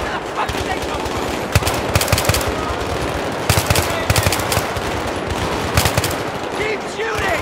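Rapid automatic gunfire in Battlefield 3 combat, loud continuous bursts of shots with sharper cracks standing out in clusters, with shouted voices mixed in.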